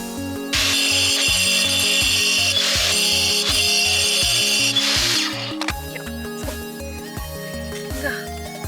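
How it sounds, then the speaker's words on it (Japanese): A power saw cutting through steel rebar outdoors, run from a portable power station, with a loud, sustained grinding whine over a rhythmic low pulsing; the cut eases after about five seconds. "鉄筋をぶった切っていきましょう"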